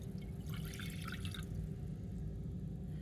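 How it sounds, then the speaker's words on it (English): Water poured into a cooking pan gives a brief splashing, trickling burst over a low, steady background hum, then fades out, with no one speaking. "take 225 millilitres of water, pour it into a pan"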